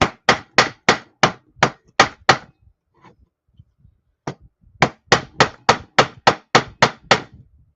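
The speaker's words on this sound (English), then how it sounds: "using the rawhide mallet keeps it from leaving marks on the metal." A rawhide mallet strikes sawn copper sheet in a steady run of sharp, close blows, then pauses with faint handling noises before another even series of hits.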